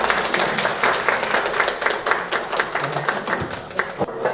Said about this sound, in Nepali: सम्पूर्ण साथीहरुले उठेर ताली बजाएर स्वागत गर्दिनु हुनको लागि